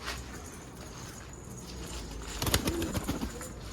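Soft racing pigeon coos rise briefly out of steady outdoor background noise, a few low murmuring calls close together near the end.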